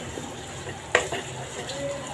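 Onions fry in a pan over a full gas flame, making a faint, even sizzle with one brief utensil clink near the middle, quiet and close.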